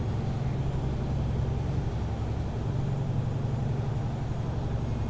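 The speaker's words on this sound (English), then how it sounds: "this thing is really noisy when you let off the gas and just let it coast" Truck in American Truck Simulator coasting off the throttle, a steady low engine drone with a rattling hum, constant and moderately loud throughout, no voices.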